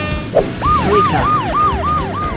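A cartoon police car siren wails in a steady repeating up-and-down pattern, loud and close, with a short clunk near the start and no talk over it.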